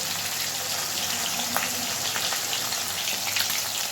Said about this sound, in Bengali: খুব ভালোভাবে মাছটাকে আমরা ভেজে নেব।